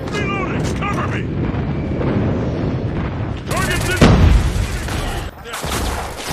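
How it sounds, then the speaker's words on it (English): Airstrike explosions in a shooter video game, a heavy booming blast landing amid ongoing gunfire and battle noise, with game voice callouts heard around it. "Enemy airstrike incoming."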